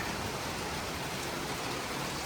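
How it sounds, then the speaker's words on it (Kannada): Light rain falls steadily as a soft, even hiss with no distinct drops, quiet and continuous throughout. "ಜೋರಾಗೇನು ಬರ್ತಾ ಇಲ್ಲ, ನಿಧಾನವಾಗಿ ಬರ್ತಾ ಇದೆ."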